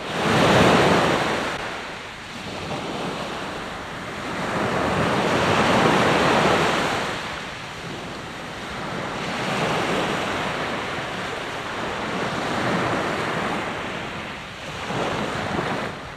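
Sea waves break on a shore in loud, rolling surges that swell and recede every few seconds, mixed with wind rumbling across the microphone and no voices.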